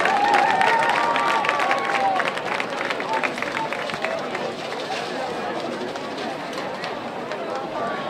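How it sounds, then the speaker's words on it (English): A crowd at a high school football game applauds and cheers for senior ROTC cadets, with broad clapping and chatter filling the stands, loud at first and easing slightly while voices mingle throughout. "Let's give a big round of applause for our 2021 senior ROTC cadets."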